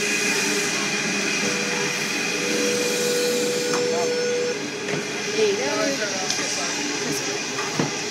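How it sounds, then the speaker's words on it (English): A loud freight train rumbles through a station platform close by, with a steady roar, squealing wheels and metallic clanks throughout. "the freight train passing through platform number 3"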